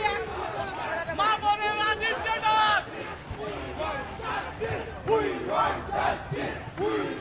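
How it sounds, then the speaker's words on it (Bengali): BJP protesters at a Gariahat street demonstration chant slogans together, a loud crowd shouting in rhythmic call-and-response bursts that carry through the whole stretch. "স্লোগান দিচ্ছেন এটা শুনবো।"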